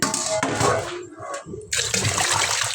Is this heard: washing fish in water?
yes